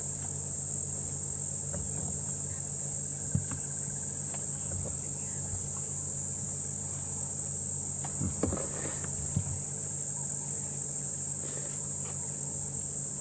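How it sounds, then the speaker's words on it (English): A constant, loud shrill of cicadas on an African safari sunrise drive fills the air without pause, over scattered soft thuds and distant low rumbles. "Hear the almost deafening call of the cicadas."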